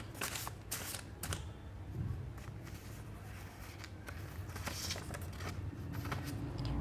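Tarot-style playing cards drawn and shuffled close by, giving soft repeated riffling and slapping flicks at an uneven pace, with faint background noise from a nearby party.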